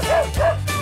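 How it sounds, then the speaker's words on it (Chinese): A Shiba Inu lets out two short, high yelping barks close by, each with a rising-then-falling whine, separated by a brief pause. "你的狗狗是 柴犬。"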